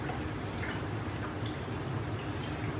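Soaked chiles being shaken off as water drips and splatters faintly, a soft wet patter that runs steadily with no voices.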